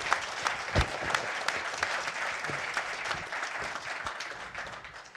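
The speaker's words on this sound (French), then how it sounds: "Bonne main d'applaudissements." A crowd at a SMPTE evening presentation in Montréal gives steady, dense applause that stays even and close throughout, with no voices.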